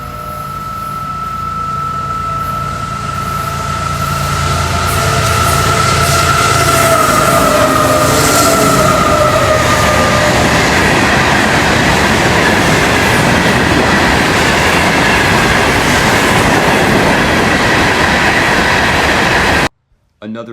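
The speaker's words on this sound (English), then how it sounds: "daily train 101 flies south with 811 in the lead" Florida East Coast Railway daily train 101 passes with locomotive 811 leading. A sustained horn blast fades as the train nears, then a loud, steady rumble of wheels and cars builds, and the sound cuts off abruptly at the end.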